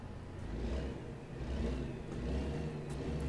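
A truck engine in American Truck Simulator revs steadily, a low droning rumble that swells and eases in a few gentle waves, moderately loud and alone.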